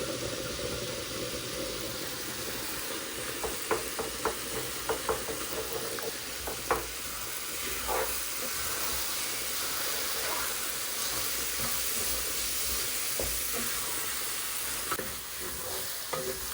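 Two eggs frying alongside cabbage in a pan, with a steady sizzle throughout and a run of sharp spatula taps and scrapes early on, close and unaccompanied by speech.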